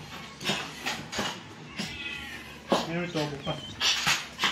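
Small, high kitten meows repeat every second or so, fairly close, with a person speaking softly underneath in places.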